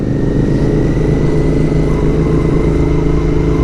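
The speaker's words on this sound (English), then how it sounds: "I just got hit in the face by the pressure coming from those exhausts." Royal Enfield Interceptor and Continental GT exhausts idle loud and close, a deep steady engine throb with no pauses.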